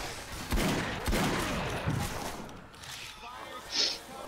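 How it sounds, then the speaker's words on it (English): Gunfire in the zombie shooter game Left 4 Dead 2, with a few sharp shots standing out early in the stretch over a busy background of game noise and voices talking. "Nice shot, I saw that. You shot it as it was going down."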